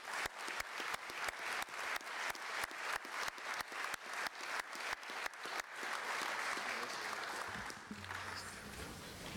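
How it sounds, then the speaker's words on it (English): Audience applause for the presenters at a drone conference closing session, starting as a spread of individual claps then swelling into dense, steady clapping that stays loud and continuous before thinning slightly near the end. "so that we can give you a round of applause"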